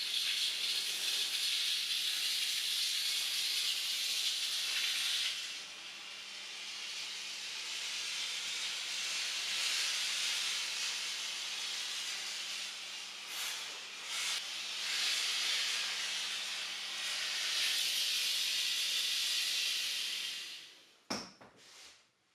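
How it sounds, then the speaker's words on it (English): A steam mop with a microfiber pad hisses loudly and steadily across linoleum, the hiss pausing and resuming in long bursts, with faint rattles and a clunk at the end as it is set down. "The instructions say that you shouldn't hold the steam mop on such surfaces for more than 8 seconds."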